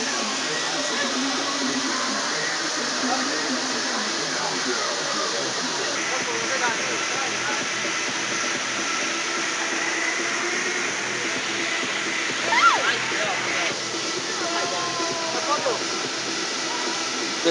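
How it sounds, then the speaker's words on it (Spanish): Potrerito waterfalls north of Bello in Antioquia, Colombia, give a steady broad rushing hiss of falling water throughout, with faint voices and a few brief sounds over it. "estamos disfrutando de estas cascadas de Potrerito."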